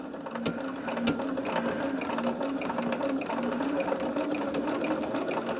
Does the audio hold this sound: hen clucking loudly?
no